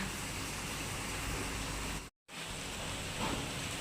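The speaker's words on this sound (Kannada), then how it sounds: "ಇವಾಗಲೇ ನೋಡಿ ಜೋರು ಮಳೆ ಬೀಳ್ತಾ ಇದೆ" Heavy rain pours down in a dense, steady roar that fills the whole stretch, cut by one brief gap of silence.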